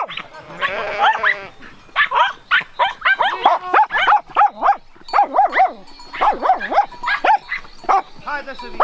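A herding dog barks in rapid, repeated bursts close by while moving sheep, with short pauses between volleys and a voice briefly at the start.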